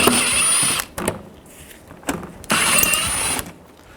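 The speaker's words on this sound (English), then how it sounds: "Take these bolts out, use a 7mm socket" Ratcheting or power-driving a 7mm socket to remove bolts on a 2010-16 Buick LaCrosse, while replacing the coolant reservoir; two loud bursts of mechanical whirring separated by quieter clicks and handling.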